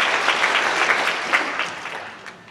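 A church congregation breaks into applause during a sermon by a young evangelist at a deaf ministry service, a bright, even spread of many hands clapping that holds steady before easing slightly.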